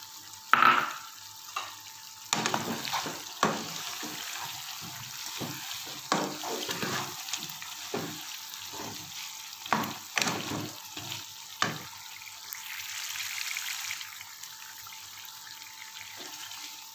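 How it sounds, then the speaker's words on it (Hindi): Chicken and capsicum curry with green chillies fries in a pan, a soft steady sizzle broken by repeated scraping and clinking of a stirring spoon, close up and fairly quiet. "इनको भी तकरीबन हम 3 मिनट मज़ीद फ्राई करते हैं।"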